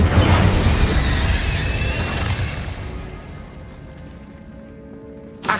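Incendio fire spell in Hogwarts Legacy, a loud whooshing burst of flame that roars at the start then fades steadily into a quiet tail, ending with a small pop.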